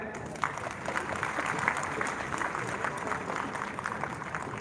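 At a Lohri and Makar Sankranti gathering, an audience claps in honour of a writer's family, a steady, moderately distant round of applause holding throughout.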